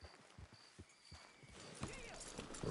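Horses' hooves clip-clop on a track in the video game Red Dead Redemption 2, a few distinct soft thuds at first, then blurring into busier background sound with faint voices.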